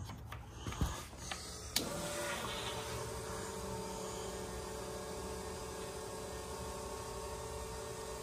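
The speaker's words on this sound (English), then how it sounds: "fuel pump just runs all the time in this thing" Electric fuel pump running nonstop in a sand rail, a steady mechanical whine and hum that settles in after a few clicks and knocks at the start.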